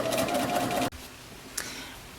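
Sewing machine stitching fabric for a 1920s-style cloche hat, a fast steady mechanical whir for under a second that stops abruptly, followed by a brief faint clack in a quiet room.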